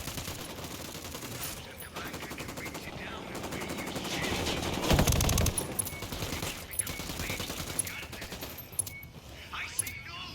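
Gunfire in the video game Ghost Recon Wildlands: bursts of automatic fire and scattered shots over a busy, noisy game soundscape, loudest around the middle, with fainter pops continuing afterward.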